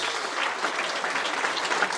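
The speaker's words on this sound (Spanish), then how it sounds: "le demos también un aplauso a él de bienvenida" Congregation at a church service applauds to welcome a guest, a steady, fairly close burst of many hands clapping for about two seconds without pause.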